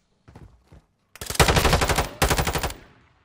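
Automatic gunfire in the video game Modern Warfare 2 starts with two short single shots, then two loud, rapid sustained bursts close up that fade into a brief tail.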